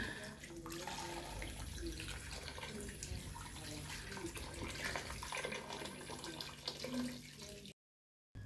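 Water pours and splashes steadily into a cooking pot as hot water is added during meal preparation, a faint, continuous trickle with soft clinks before cutting to silence.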